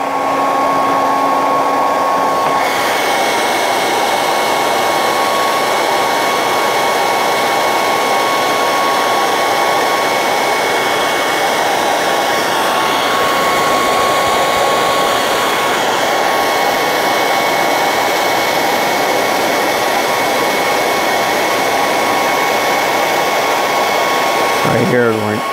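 A heat gun roars in a steady, loud airflow hiss while warming thick resin, running unbroken for the whole stretch before cutting off abruptly at the end.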